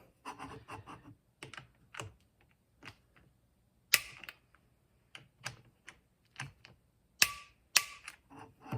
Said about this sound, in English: So we're going to use our Wheeler fat wrench here and dial it up to 30.